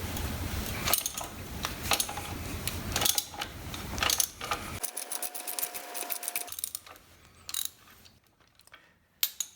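A hand ratchet breaks loose nuts on an AMF Harley-Davidson Shovelhead engine during disassembly, making rapid clicking pawl runs in uneven bursts with metallic taps, fairly close and alone.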